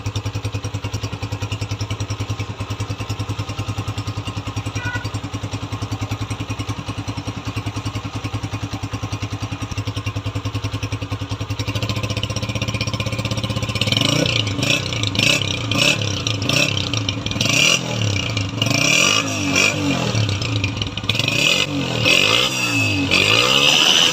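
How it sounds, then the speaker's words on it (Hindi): A 2023 125cc motorcycle idles with a steady low exhaust drone, then the engine revs repeatedly, rising and falling loudly close by with some clattering. "अभी इसके साइलेंसर का जो साउंड है वो चेक करवाते हैं आपको"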